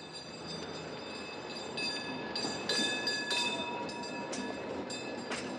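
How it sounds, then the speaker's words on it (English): A rail bus rolls past steadily, a continuous rumble with metallic squeals and high screeches near the middle, loud and close throughout. "Rail bus."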